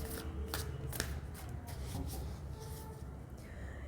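Tarot cards are shuffled by hand up close, with quiet riffling and snapping bursts in an uneven rhythm, faint and with no speech.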